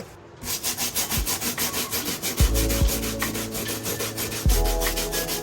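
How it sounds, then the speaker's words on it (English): Scraping and rubbing as an X-Acto knife picks small rocks and gunk out of the outsole of a Nike SB Dunk Low sneaker, with a steady run of close, short strokes and a few heavier knocks. "I'm just going to use my X-Acto knife just to pick out all the little rocks and stuff"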